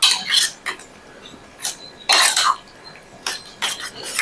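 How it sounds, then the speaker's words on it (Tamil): A spoon clinks and scrapes against a bowl in short bursts while curd is stirred in for a pachadi, close and fairly loud with brief pauses between strokes. "இதில் தயிரை கலக்கிறேன் வேணுங்கிற அளவு தயிரை கலந்துப்போம்"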